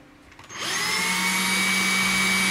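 A power drill used on a light-up miniature spins up after a quiet moment, then holds a loud, steady whine with a rising pitch at first, close to the listener.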